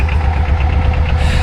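Diesel ATV engine running steadily at low revs, a loud continuous rumble with faint knocking pulses throughout, no voices.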